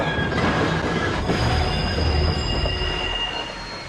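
A loud, continuous high-pitched squeal of train wheels on rails over a steady rumbling, clattering train, with no talking.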